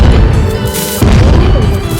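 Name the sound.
bomb explosion in Roblox video game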